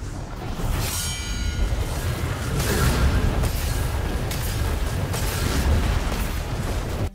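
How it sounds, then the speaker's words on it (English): Destiny 2 Dawnblade Daybreak super: a steady roaring burst of fiery whooshes and booms, loud and continuous without a break, with no voices over it. "When you use the super, he's gonna lit himself on fire and he's gonna throw the fire blades"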